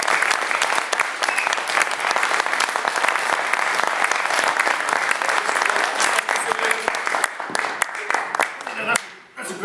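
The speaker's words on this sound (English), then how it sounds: "he deserves a big round of applause for Steven Woolfe" An indoor audience at an evening talk gives a sustained round of loud, dense applause for MEP Steven Woolfe, steady clapping that thins into scattered claps and fades out at the very end.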